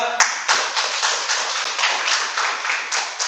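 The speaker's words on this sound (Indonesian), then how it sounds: "Tepuk tangan semua." A classroom of students claps together at the end of a lesson, a dense, continuous patter of hands close by with no voices over it.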